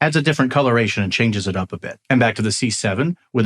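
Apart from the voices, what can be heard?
No distinct noise like a dog, phone or traffic.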